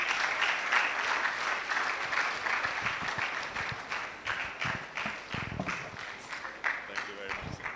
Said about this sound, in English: A round of applause for him, please.